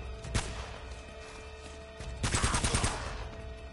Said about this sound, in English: This man took a barrage of bullets.